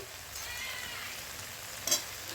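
Green chillies fry in hot oil with fried eggplant, giving a faint, steady sizzle and one short pop near the end.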